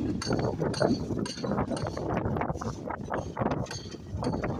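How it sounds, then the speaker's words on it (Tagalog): Strong gusty wind buffeting the microphone beside the Sta. Ana Wharf flyover construction, with rushing bursts and faint clinking rattles in between. "Napakalakas ng hangin."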